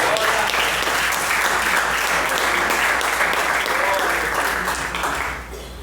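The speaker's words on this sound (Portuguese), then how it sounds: "batendo uma linda salva de palmas para Jesus." A church congregation in a Portuguese-language service breaks into loud, sustained applause, dense and steady clapping that fills the room for several seconds before tapering off at the end.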